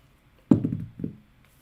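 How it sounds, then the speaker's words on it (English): Dice rolled onto a hard surface, a sharp knock followed by a brief tumbling rattle and a second small thump as they settle, close and fairly loud with no talking. "Alright, let's roll the dice."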